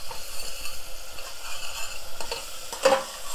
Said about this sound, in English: once you put the yogurt in, you have to start stirring it.